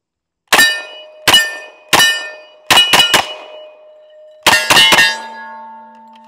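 An M1 Thompson runs through a 20-round magazine at steel targets, giving loud isolated shots in small bursts, each followed by a ringing metallic clang from the steel plates.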